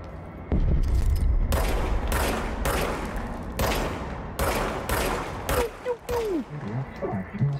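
A player's firearm in the game Control fires in loud, close bursts of rapid shots, separated by short pauses, with a few whooshing effect sounds near the end.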